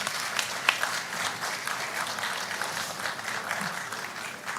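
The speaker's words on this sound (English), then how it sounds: "Please put your hands together for him." An audience claps at a national AI strategy launch event in Ghana, producing sustained, moderately distant applause that holds at an even level throughout.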